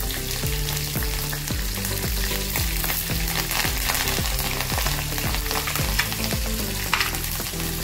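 Curry leaves crackle and sizzle in hot oil, a loud continuous spitting fry with rhythmic stirring strokes throughout and no talk.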